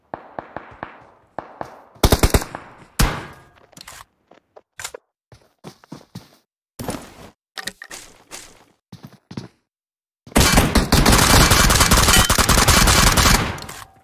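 Gunfire in the mobile shooter BGMI: repeated automatic bursts and single shots at varying distances, with a long sustained loud volley at the end; no speech.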